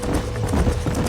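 Horse hooves clip-clop steadily in the Red Dead Redemption western game, a continuous rhythmic trotting close by, mixed with low rumbling ambience and no talk.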